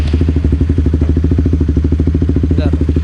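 A Honda NCB 150R motorcycle engine idles close by with a steady, rapid pulsing chug and a light mechanical clatter that runs unbroken throughout.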